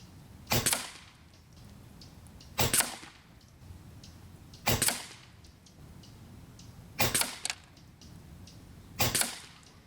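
An Air Venturi Avenger air rifle in a limited-edition green laminate fires five sharp, evenly spaced shots about two seconds apart, outdoors in snowy, windy conditions with steady wind noise underneath.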